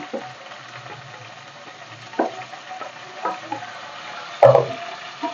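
Onions fry in hot oil with whole spices for chicken biryani, a quiet steady sizzle broken by a few scrapes of a stirring spoon and one sharper clatter near the end.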